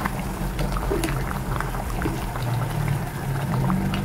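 Coconut milk boils down into latik in a pan, giving a steady dense bubbling and sizzling hiss that runs continuously and fairly close, with no voices.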